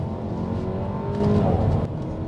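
An Audi A4 40 TFSI engine with a DCT gearbox hums and rises briefly in pitch as it revs while driving, heard from inside with steady road noise underneath.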